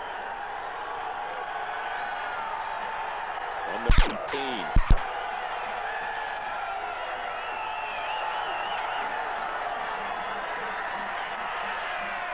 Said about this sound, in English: you can hear the crowd here at ASU